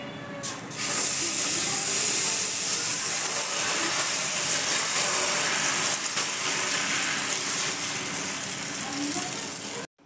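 Tomato dosa batter sizzles on a hot griddle, a loud steady hiss that bursts in abruptly, holds for about nine seconds at close range, then cuts off.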